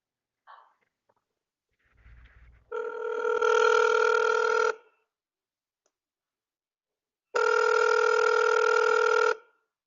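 A telephone rings in two long electronic bursts separated by a pause of a few seconds, loud and close, before a call is answered, with a brief click or rustle just before the first ring.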